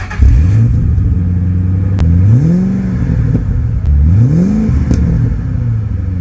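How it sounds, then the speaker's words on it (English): 2008 Shelby GT500 with a dual tip exhaust revving up repeatedly, loud and close, several rising blips that climb and drop back to a rumbling idle between them. "a dual tip exhaust system that actually sounds pretty decent"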